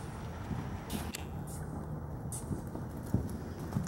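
Horse hooves cantering in a riding session, a steady soft rhythmic thudding of hoofbeats under a low background hum, with occasional sharper impacts.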